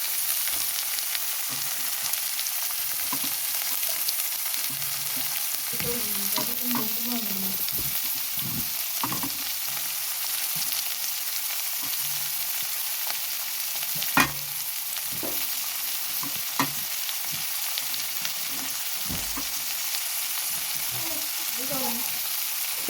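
Beans, capsicum and carrot fry together in a pan, giving a continuous soft hiss with occasional scraping and clinking from stirring, steady and fairly quiet with no talking.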